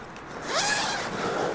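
A single zipper on a camping hammock's bug net is pulled in one quick, close stroke, producing a bright rasping sound with nothing else heard.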